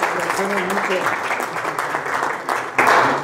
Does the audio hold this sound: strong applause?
yes